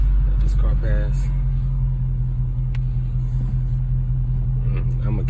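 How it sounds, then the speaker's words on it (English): A car passes on a downhill road, heard from inside a Dodge Charger Scat Pack 392 as a steady low rumble with a brief swoosh, under in-cabin engine hum, with someone talking. "Let this car pass."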